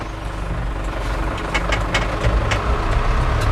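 An Isuzu NQR150 truck with a 5.5-metre body runs on a test drive, its diesel engine rumbling low and steady up close, with a few clattering knocks over the drone.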